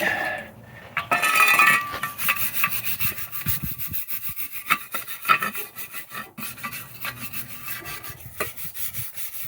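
Heavy rust scale is scrubbed off bolts with a brush, giving loud, close, continuous rasping strokes with an uneven rhythm and occasional metallic clinks.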